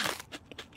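A cartoon character crunches on dry cat food, a few quick crisp bites in under a second, close and fairly quiet with no talk.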